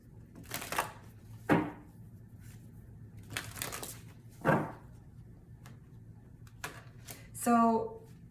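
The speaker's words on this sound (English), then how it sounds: "And let's go ahead and shuffle for a masculine." Tarot cards being shuffled in bursts of riffling and rustling, a few distinct shuffles spaced over several seconds, fairly close with a quiet room behind.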